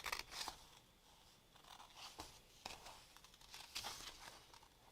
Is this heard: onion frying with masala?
no